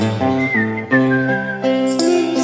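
A person whistles a sustained melody over a steady musical backing, the high whistled notes gliding and holding clearly above the accompaniment.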